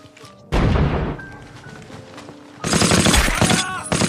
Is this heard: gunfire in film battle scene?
yes